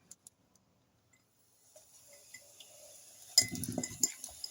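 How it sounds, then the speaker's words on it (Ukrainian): A spoon clinks and scrapes against a glass as a fizzing mixture of baking soda and vinegar is stirred, soft at first, then a busier burst of clinks near the end. "І все це гарненько розмішую, щоб погасилося."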